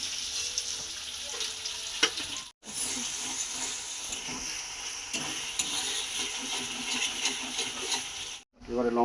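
Chopped onion and green chili sizzle and crackle in hot oil while being stirred, a steady frying hiss with scraping, broken by two brief silent gaps.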